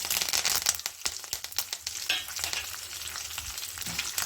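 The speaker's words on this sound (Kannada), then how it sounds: "ಸಾಸಿವೆ ಸಿಡಿತಾ ಇದೆ" Mustard seeds spluttering in hot oil with chana dal, urad dal, curry leaves and dried red chillies for a beans palya, sharp rapid pops and crackles over a steady sizzle, close and lively.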